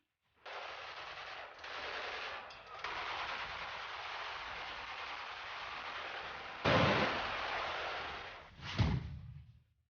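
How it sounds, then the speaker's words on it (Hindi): Celebratory gunfire of sheikhs: long, loud machine gun bursts rattle continuously with brief pauses, ending in a couple of sharper heavy shots and a fading echo, with no voices over it. "जश्न के नाम पर गोलियों की बौछार।"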